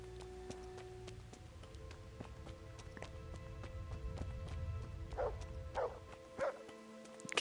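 Dog barking in the video game Kingdom Come: Deliverance, a few separate barks sounding near the end over a steady droning game soundscape with low rumble.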